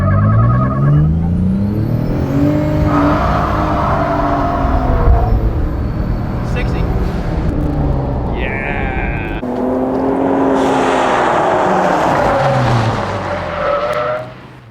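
A 2005 Ford Ranger pickup with an EcoBoost engine races hard at around 60 to 70 mph, engine roaring loud and steady with rising and falling pitch as the tires spin, continuous throughout and fading at the end.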